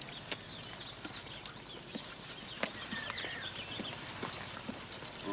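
Steady clip-clop of horse hooves, a brisk even rhythm of sharp knocks at moderate distance, with faint birdsong in the background.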